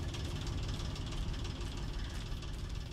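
A generator engine in Alan Wake 2 runs in a steady, even rumble with a low continuous drone, heard alone and fairly quiet.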